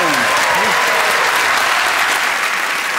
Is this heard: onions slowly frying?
no